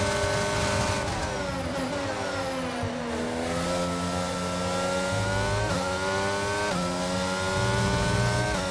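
McLaren Honda Formula 1 car in F1 22 accelerating hard, its high-pitched engine whine climbing through repeated gear changes, loud and close, with no talk over it.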